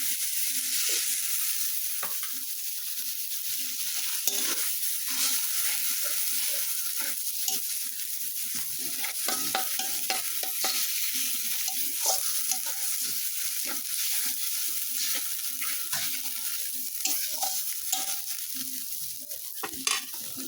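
Ginger and cumin sizzle steadily in a pan after a splash of water, with a constant hiss and scattered stirring scrapes throughout; no voices.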